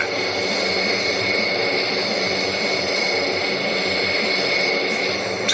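Jet airliner engines roaring at takeoff power in a flight simulator game, a loud, steady broadband roar with a high whine that holds unbroken throughout.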